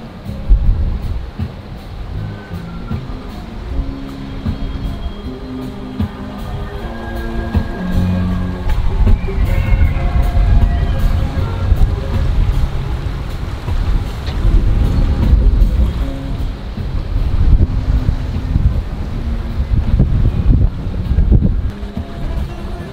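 A sailboat under way at sea among the Åland islands, with a continuous low rush of water and wind buffeting the microphone, fairly loud and steady with no talking.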